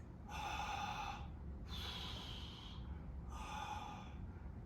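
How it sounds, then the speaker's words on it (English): Deep, audible breaths during a cool-down exercise after a squat, three long airy inhales and exhales in a steady rhythm, close and fairly loud with no talking. "I come up, I want to take a deep breath"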